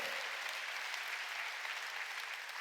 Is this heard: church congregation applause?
yes